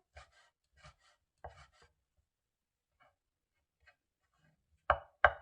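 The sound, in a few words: knife finely julienning and mincing ingredient on cutting board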